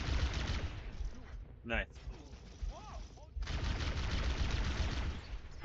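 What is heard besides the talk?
plasma pistol firing in a video game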